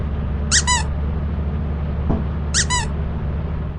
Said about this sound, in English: It makes a squeaky sound upon picking it up and dropping onto the ground.